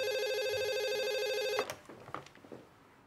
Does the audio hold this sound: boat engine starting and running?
no